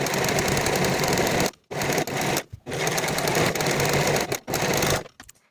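A sewing machine runs in several steady bursts, finishing the raw edges of a facing around the outer edge for a boxy top, each run separated by short silent pauses.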